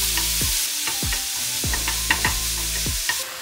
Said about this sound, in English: Let me grill the marinated bulgogi.